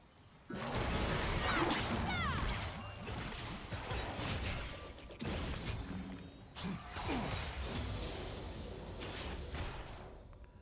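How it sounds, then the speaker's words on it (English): A bomb strikes a player character in League of Legends, a sharp crashing, shattering impact amid dense, continuous game effects, with several whooshing hits spread across the clip. "I got hit by the freaking bomb"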